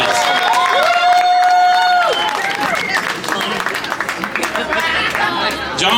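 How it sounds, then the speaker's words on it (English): A festival crowd applauds and cheers, with loud whoops and a long held shout riding over dense clapping, then chatter and scattered claps as it tapers off. "Give yourselves a round of applause."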